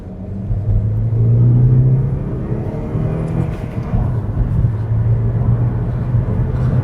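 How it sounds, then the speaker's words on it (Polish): Saab 9-3 2.0 turbo (B204E, 185 hp) accelerating hard, a loud, steady engine drone with rising harmonics rumbling continuously from inside the car throughout. "naprawdę to auto fajnie przyspiesza"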